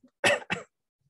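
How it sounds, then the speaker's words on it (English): A man coughs twice in quick succession, two short, close and dry bursts followed by silence. "bear with me if I jump into a bit of a coughing fit"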